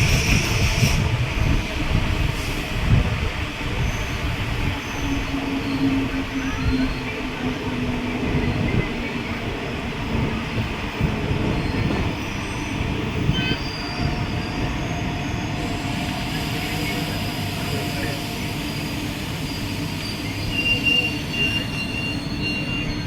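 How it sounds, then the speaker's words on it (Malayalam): A train rolls past with a steady, loud rumble and metallic wheel squeal, continuous throughout with no voices. "ഇത് അടുത്ത റെയിൽവേ ട്രെയിൻ വരുകയാണ്"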